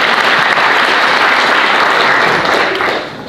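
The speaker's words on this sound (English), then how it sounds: "How about a round of applause" A crowd of students, faculty and guests at the 2018 Bailey Oratorical at Juniata College gives a loud, dense round of applause that holds steady, then eases off near the end.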